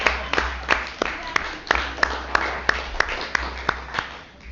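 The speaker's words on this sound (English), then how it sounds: "I think that deserves a round of applause" Sparse applause from a city council meeting audience, a handful of distinct claps spaced unevenly over a low room hum, fairly faint and distant.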